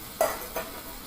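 Fish dropped into a hot pan of leafy greens for a sour fish curry, with two quick sizzling bursts as pieces go in, close and moderately loud, then settling to a low background fry.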